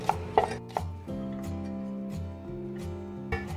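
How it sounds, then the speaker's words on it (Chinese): Knife chopping garlic scapes into rings on a cutting board: a few sharp, close knocks at the start, then a sustained tonal hum underneath with a final knock near the end. "配菜我是洗了一点蒜苔哈，我们给它切圈"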